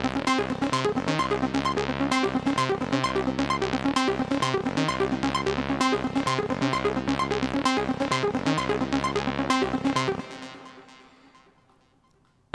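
A techno synth lead plays its main melody over a steady pulsing groove, its filter and oscillator settings shifting as it goes; dense repeated notes run for about ten seconds, then the sound cuts and a reverb tail fades out.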